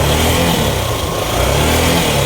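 A Yamaha YTX 125 motorcycle with a clutch problem, its engine running loud and close in first gear as the clutch is released, a steady droning rev with no pickup.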